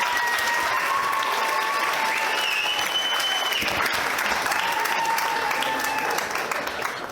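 Wedding guests at an evening reception applaud after the groom's speech: sustained, full-room clapping from many hands, loud and steady, with a few whistles and cheers over it before it tapers slightly at the end.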